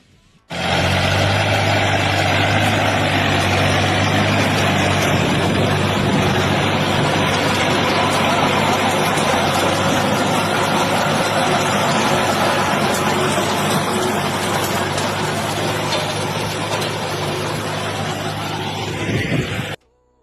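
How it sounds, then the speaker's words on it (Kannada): A Mahindra 2130 mini tractor's small diesel engine idles steadily at close range, a low chugging rumble that holds constant for about twenty seconds with no one speaking. "ಇದು ಮಹೇಂದ್ರ 2130 ಟ್ರ್ಯಾಕ್ಟರ್ ಅದ ರೀ"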